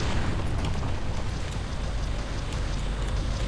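A dense, rumbling explosion roars on as an enemy structure is destroyed in the strategy game Ground Control. The noisy blast fills the whole clip at a steady, loud level with no break.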